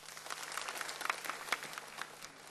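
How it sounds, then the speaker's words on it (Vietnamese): An audience applauds at a Vietnamese stage show after a poem and song, a fairly faint, steady patter of many hands clapping, heard from some distance in a hall. "chúng ta hãy cùng dành cho bài thơ và ca khúc này một tràng vỗ tay thật lớn hơn nữa"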